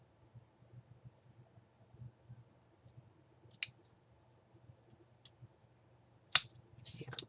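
Scissors trimming the edge of a crochet angel tree topper, heard as a few faint, sparse snips and small clicks set in near silence.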